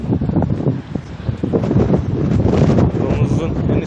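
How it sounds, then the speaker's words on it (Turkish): Strong outdoor wind buffeting a handheld microphone on a school campus, a loud continuous rumbling roar with gusty surges throughout. "Bayağı rüzgar var."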